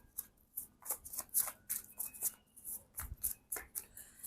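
Close, soft rustling and slapping of tarot cards being shuffled by hand in a quick, irregular rhythm, with no talking.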